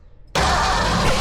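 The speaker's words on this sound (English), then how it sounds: "should we try and crank it and give it a little bit of ether and see what it does?" A Cobra kit car engine, dosed with ether, cranks and catches: after a third of a second of near silence a loud, dense roar bursts in close up and holds steady to the end.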